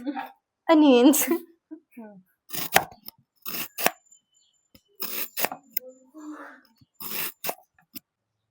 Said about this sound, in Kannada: ಅವಳು ಅನಿಯನ್ಸ್ ಕಟ್ ಮಾಡ್ತಾ ಇದ್ದಾಳೆ.